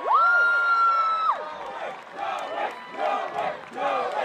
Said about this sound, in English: Let's give a round of applause for Principal Lewis.